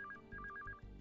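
A telephone rings with a faint electronic tone in quick repeated pulses, heard on its own in a room.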